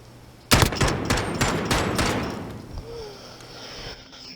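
An M4A1 rifle fitted with a muzzle brake, fired in the shooter Modern Warfare, lets off a rapid burst of about six loud, close shots that decay into a lingering echo and ringing tail.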